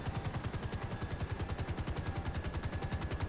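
Sustained automatic gunfire from police tanks in Grand Theft Auto V, a fast, regular, even burst of heavy shots continuing throughout at moderate loudness.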